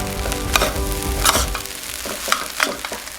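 Shrimp fried rice sizzles and crackles in a hot pan over high heat, with steady frying hiss and several sharp stirring scrapes and clatters close by, no voices.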